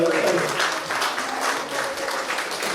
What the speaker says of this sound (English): can we give a great big round of applause